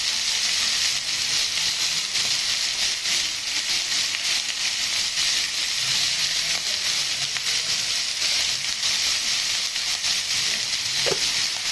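Chicken gizzards with green chili and salt sizzle and fry in a pan while being stirred, a loud continuous hiss with occasional scraping of the spoon, no talking.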